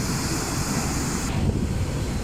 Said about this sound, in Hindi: पानी का शोर और पानी की जो यहाँ पे स्पीड है।